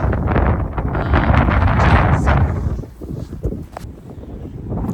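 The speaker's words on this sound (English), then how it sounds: "I'm absolutely being pushed by the wind. Can you see how windy it is?" Strong wind in Marpha village on Nepal's Annapurna circuit roars and buffets the microphone in loud gusts, easing briefly before surging again.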